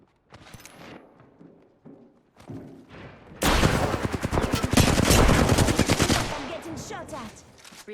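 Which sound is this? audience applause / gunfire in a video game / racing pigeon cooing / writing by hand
gunfire in a video game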